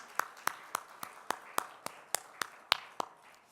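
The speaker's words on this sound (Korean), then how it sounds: "우리 찬송과 기도를 받으신 우리 하나님께 영광의 박수 올려드릴까요?" A church congregation claps in a quick, fairly even rhythm, about a dozen distinct claps over a few seconds, heard from a distance with no talking.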